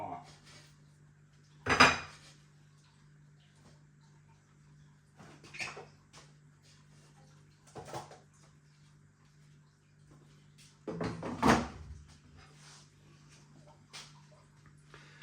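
Cheesy beef Jamaican patties come out of an air fryer with a few sharp metallic clanks and clatters of basket and utensils, spaced apart over a faint steady hum, fairly close.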